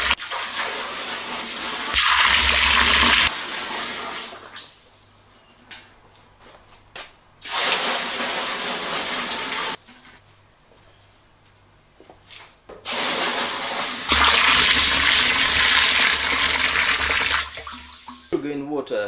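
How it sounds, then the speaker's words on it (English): Cold water pours into a barrel of sugar wash for home distilling, in three loud gushing bursts separated by quieter stretches with some handling and talk. "add some cold water, bring the temperature to 24 degrees or so"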